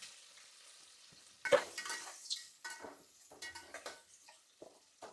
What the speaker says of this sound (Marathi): कांदा हा आपला फ्राय झालेला आहे